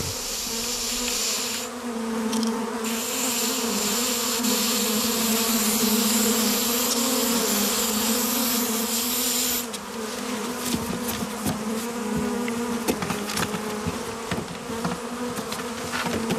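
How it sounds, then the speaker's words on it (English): A dense swarm of honey bees rises from a box, buzzing loudly and continuously nearby, a thick droning hum with shifting intensity and occasional clicks. "The swarm, with the queen in its midst, rises from the box"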